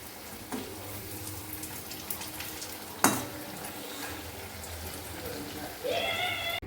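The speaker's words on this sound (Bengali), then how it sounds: "এই যে পকোড়া ভাজা হয়ে গেছে" Pumpkin pakoras and beguni (battered aubergine) frying in hot oil, a steady close sizzle with scattered crackles and a sharp clatter midway, with a tonal beep near the end.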